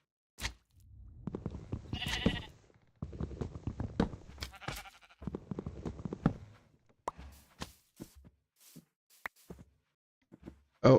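Sheep bleating in modded Minecraft, a run of short synthetic bleats of varying pitch sounding close and fairly loud, followed by sparser clicks and brief game noises.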